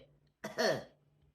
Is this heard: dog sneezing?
no